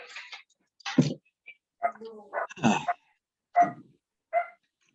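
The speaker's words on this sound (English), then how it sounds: "We've got a dog barking there." A dog barks in short separate yaps spread through a quiet room, each bark brief and fairly close, with pauses of silence between them.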